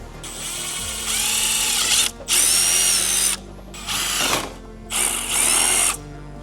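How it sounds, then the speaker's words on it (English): A power drill whirs in four bursts of a couple of seconds each, separated by brief pauses, close by and fairly loud, drilling holes for a turn signal kit on a Polaris Xpedition. "Now we can go on to drilling."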